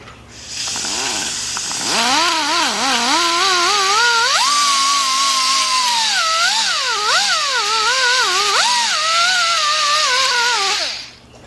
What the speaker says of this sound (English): I have my sanding tool. I'm gonna clean this area here.